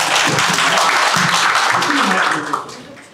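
Audience applause at a Busan biodiversity survey sharing event, a steady wash of clapping from a crowd that holds for a few seconds and then tapers off, with some voices mixed in.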